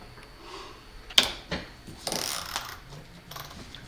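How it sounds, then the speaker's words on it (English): A 1/4 inch tap cuts threads while assembling an explosion-proof motion sensor, heard as faint, intermittent ratcheting clicks and creaks with a few sharper snaps, all fairly quiet and close. "Using a 1/4 inch tap."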